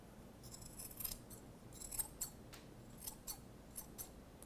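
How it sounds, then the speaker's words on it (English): Scissors snip tassel threads close by, a string of quiet, quick cuts at uneven intervals with soft rubbing between. "I can trim those threads along with all the rest of them at the bottom"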